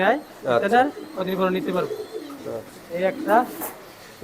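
Racing pigeons coo softly in a low, repeated rhythm, close by, with people talking over and between the calls.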